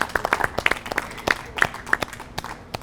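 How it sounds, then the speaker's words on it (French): Small audience at a novel launch gives a round of applause for a woman, a few distinct hands clapping close by in uneven, sparse bursts. "j'aimerais ça qu'on puisse applaudir Caroline"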